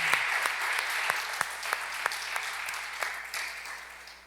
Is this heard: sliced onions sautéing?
no